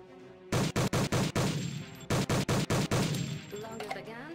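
Gunfire from tank guns in the mobile tower-defense game Steam Defense: Tanks & Dragons, two loud bursts of rapid, evenly spaced shots, each volley five or six blasts, over continuous game noise.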